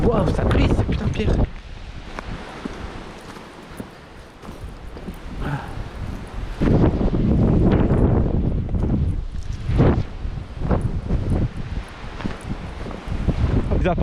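Strong mountain wind roars across a rocky Pyrenees hiking path in long, heavy gusts with low rumbling buffeting, easing briefly before surging again.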